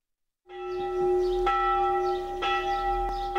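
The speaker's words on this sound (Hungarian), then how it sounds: "Harangszó hívta ünnepelni a rettegi református templomba a híveket." The bell of the renovated Reformed church in Retteg, Beszterce county, rings to call worshippers to a Sunday thanksgiving service, with loud, resonant strokes and a long sustained hum that carries clearly with no talking.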